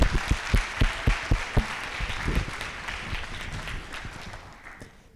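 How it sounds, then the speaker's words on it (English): Audience applause fills a school assembly hall, opening with sharp distinct claps that blend into a steady dense wash of clapping and slowly fade toward the end, with no talking. "Can we please give another round of applause to all of our wonderful student leaders?"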